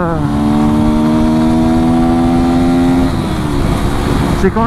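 A 125cc four-stroke motorcycle accelerates hard up close, its engine note rising loudly and steadily through the gear, with a rider's voice faintly audible.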